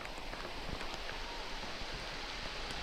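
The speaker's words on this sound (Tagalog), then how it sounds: "Hintayin na lang natin na humupa yung ulan mamaya" Soft, even rain falls outdoors by the Maramo River in Norzagaray, Bulacan, a faint continuous hiss with scattered light drop taps.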